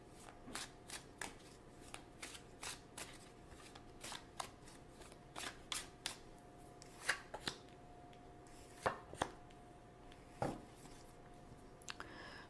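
Tarot cards are drawn and handled close by, giving soft papery flicks and slaps spaced irregularly over quiet background.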